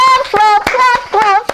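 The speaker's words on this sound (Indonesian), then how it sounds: "tepuk tangan buat Dylan sekali lagi" Scattered hand claps from a small studio audience for a talk-show guest, sharp separate strikes in loose rhythm, mixed with overlapping voices talking and exclaiming.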